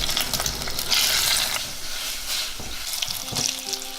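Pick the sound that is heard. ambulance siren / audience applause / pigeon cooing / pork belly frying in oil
pork belly frying in oil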